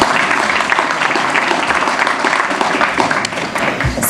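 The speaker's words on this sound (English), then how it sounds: "So a round of applause to them." Banquet audience at a volunteer recognition evening clapping steadily for the assistants, dense close applause sustained at an even level for about four seconds.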